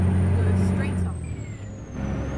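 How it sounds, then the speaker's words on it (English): In American Truck Simulator, a Kenworth W900 truck gives a short airy hiss as the throttle is released, over a low engine rumble with a faint whine, heard close from the cab. "Did you hear that time when I got out of the throttle? Sort of a shh sound."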